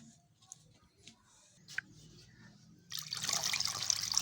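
Cut potato fries being rinsed in water for cheesy fries: after quiet light clinks, a loud, steady splashing and sloshing of water starts near the end and continues to the close.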